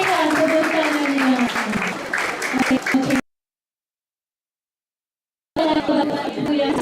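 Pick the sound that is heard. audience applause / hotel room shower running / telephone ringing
audience applause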